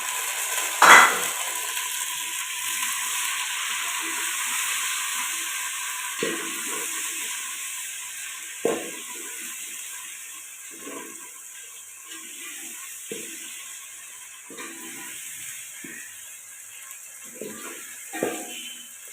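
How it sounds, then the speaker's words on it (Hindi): Tomatoes fry lightly in a pan with ginger and garlic, a steady soft sizzle broken by occasional clinks and scrapes of a utensil stirring. "टमाटर को ज़्यादा नहीं भूनना, हल्का भूनना है।"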